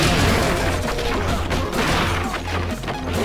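Loud crashing bursts and booming hits from a bomb explosion in One Finger Death Punch fill the moment densely, with constant chaotic game impacts and no pause.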